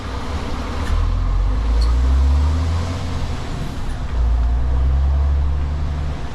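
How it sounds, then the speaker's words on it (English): A vehicle towing a trailer with an old machine rumbles close along a narrow Welsh lane, its engine droning low and rising in two heavy surges as it climbs over a bump, with no voices. "go up and over that little bump there just to get that trailer around"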